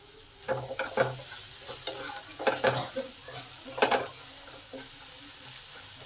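Onions fry in a pan with a steady sizzle, broken by several short clattery bursts of stirring; close and fairly quiet, no voices.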